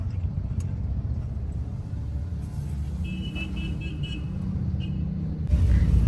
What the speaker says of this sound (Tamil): டிராஃபிக்காக இருக்குது.